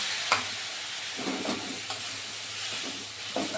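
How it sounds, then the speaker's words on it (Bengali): Spiced paste sautéing on low heat for a Bengali potol (pointed gourd) dish: a steady, soft sizzle with a few light stirring scrapes, close by and with no talking. "এগুলোকে ভালোভাবে কষিয়ে নেব প্রথমে, একদম আগুন কম দিয়ে কষাবো"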